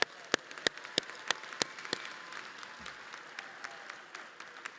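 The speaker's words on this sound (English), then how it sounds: "Give them a round of applause." Audience applause at the University of South Carolina Upstate 2024 commencement ceremony, loud and steady for the whole stretch, with sharp individual claps standing out near the start before the clapping thins slightly.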